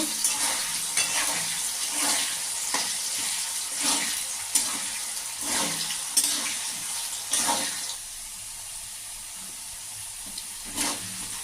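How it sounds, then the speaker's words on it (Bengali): Potato pieces fry in a pan with salt, a moderate crackling sizzle broken by repeated scraping stirs and clanks of a spatula at irregular intervals. "লবণ দেব দিয়ে আলুগুলো একটু ভেজে নেব"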